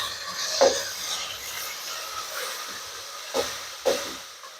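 Mutton chops fry with finely chopped tomatoes in a pan, a soft steady hiss at moderate distance broken by a few brief clatters of stirring.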